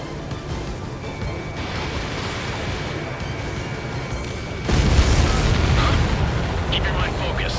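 Explosions rip through an enemy base in the Ace Combat 7 video game. Continuous rumbling booms swell into a louder, denser blast about two-thirds of the way through, mixed with other game sound.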